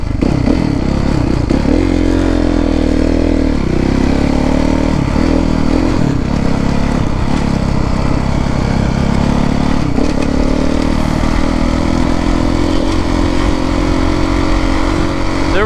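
A Kawasaki KX450F motocross bike rides hard, its engine roaring loud and steady without a break, with revs rising and falling and some rattling from the bike and terrain.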